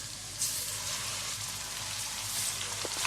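Garlic ginger paste frying in a hot pan for chicken korma, a steady dense sizzle and crackle holding evenly throughout, close and alone with no voices.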